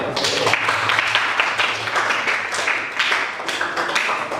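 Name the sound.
applause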